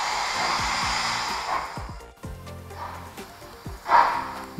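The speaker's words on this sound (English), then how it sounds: "switch the sound on, and have our locomotive start off" Model locomotive's sound decoder starting up, with a broad hissing steam or air rush over low rhythmic chuffing pulses and a swelling burst near the end, fairly close and without talk.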